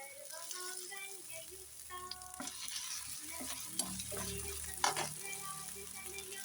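Semolina for upma roasting and being stirred in a pan, with a continuous soft sizzle under scraping strokes of the spoon and a few sharper knocks against the pan.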